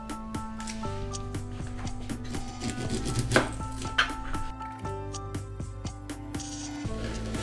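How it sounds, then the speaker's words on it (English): A knife chops a small red onion on a board in a home kitchen, with a steady run of crisp, close cuts over soft background music. "Sada sečemo crveni luk."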